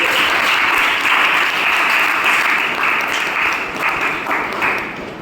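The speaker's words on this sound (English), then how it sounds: "I request all of you to give a big round of applause for his step." A roomful of people at a Toastmasters meeting applaud loudly and continuously, a dense close clatter of hand claps holding steady for several seconds without speech.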